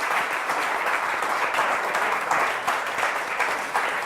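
A studio audience claps at length for team captains Francesco and Elisa on the Lo Sapevo quiz show, with a continuous, even wash of applause and no break throughout.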